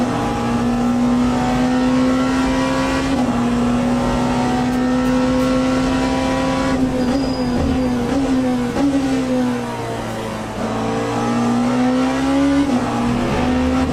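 A race car in the Le Mans Ultimate sim game revs and accelerates through a corner under throttle, a strong engine tone rising and dipping with gear changes, loud and continuous.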